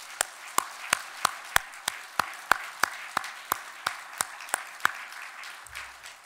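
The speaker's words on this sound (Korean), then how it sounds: "하나님께 영광의 박수를 올려드리겠습니다" A church congregation claps during a service, a steady run of sharp beats in even, unison rhythm at moderate loudness, continuing for several seconds before fading out.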